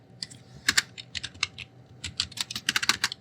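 C++ switch-statement code typed on a computer keyboard in quick, close bursts of crisp key clicks separated by short pauses.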